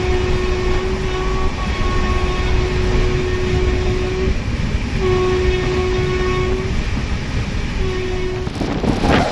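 The Rupashi Bangla Express runs at about 130 km/h in a loud, steady rumble heard from on board, its horn sounding in several long sustained blasts over the continuous rail roar.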